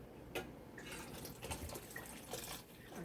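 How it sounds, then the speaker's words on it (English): Water poured into a pot of boiling Jamaican chocolate tea makes a brief, quiet stream of splashing and dripping over a steady bubbling background. "I'm gonna add a little bit more water to it."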